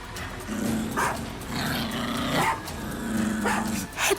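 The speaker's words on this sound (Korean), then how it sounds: "해피가 짖는 소리에 눈을 떠보니까" A dog barks and growls several times in a row, fairly close and loud, with short harsh yelps spread across the stretch and no voices.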